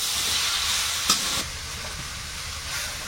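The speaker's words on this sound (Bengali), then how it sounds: "এই পুঁই শাক আর আলুটা একটু আগে ভেজে নিচ্ছি" Malabar spinach and potato fry in a pan with a steady, close sizzle and the scrape of stirring, including one brief sharper clatter partway through.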